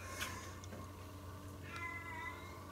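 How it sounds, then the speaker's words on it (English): A house cat meows faintly in the background of a quiet room, heard through a slightly open door, with one or two drawn-out calls over low room hum. "I'm not sure if you hear that, but it's our cat."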